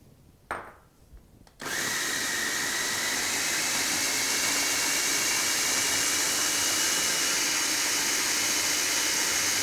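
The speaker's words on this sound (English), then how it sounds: "we add our sugar, we turn on that food processor" A food processor whirs at full power, blending blackberries with sugar for a coulis; after a few soft clicks it starts abruptly and holds a loud, steady, high-pitched roar to the end, with no talking.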